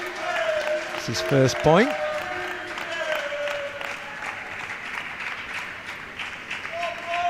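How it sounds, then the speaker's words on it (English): A home crowd of British supporters applauds and cheers loudly at a para table tennis match at the European Para Table Tennis Championships, a sustained roar with a brief burst of clapping early on, under a commentator's voice. "These two players will have to just close out all this noise coming from the GB crowd"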